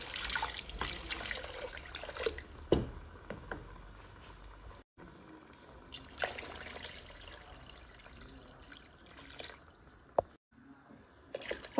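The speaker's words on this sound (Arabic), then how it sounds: "دابا غادي نضيف الماء الكافي اللي هيبقى لينا فيه الدجاج" Water poured or trickling into a cooking pot of chicken for a Saudi chicken kabsa, a steady dripping, splashing stream running close and alone through most of the stretch, with a couple of brief breaks.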